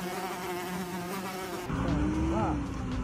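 A loud insect buzz, close and steady, with a whining pitch that shifts partway through as the sound grows fuller and rises and falls.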